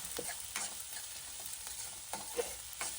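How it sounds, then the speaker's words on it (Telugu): Onions frying with curry leaves and green chillies for an egg curry, a faint, steady sizzle broken by repeated spatula scrapes and stirs at a loose, irregular rhythm, with no one talking. "కరివేపాకు అలానే పచ్చిమిర్చి కూడా వేసేసుకొని కొద్దిసేపు ఆనియన్స్ బ్రౌన్ కలర్ వచ్చేంత వరకు వేయించుకుందాం"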